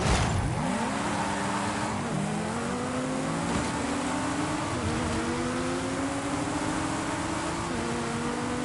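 Racing car engines in a driving video game, loud and continuous, climbing through repeated rising revs with brief drops at each gear shift over a dense roaring, rumbling bed, with no talking.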